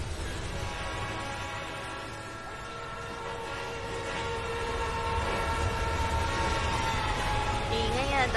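Many trains rumble past in a Roblox train tunnel game, a steady loud mechanical drone with horn-like tones rising and falling, growing louder toward the end.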